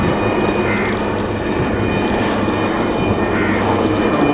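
Helicopter flying overhead above a flooded area in Pallikaranai during the 2015 floods, a steady loud rotor and engine drone that fills the scene without pause and with no voices.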